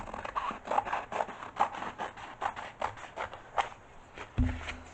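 Scissors cut a Dollar Tree canvas along marked lines, giving a steady run of close, rapid crisp snips and scratchy rustling, ending in a short low thump.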